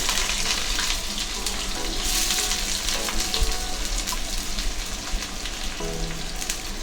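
Chopped onions hit hot mustard oil and fry with a dense, continuous sizzle and crackle, steady and close throughout, with faint clinks of stirring.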